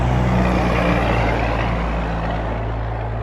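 A truck's motor drones loudly and steadily at close range, a deep constant rumble with a slight shift in tone partway through, with no voices.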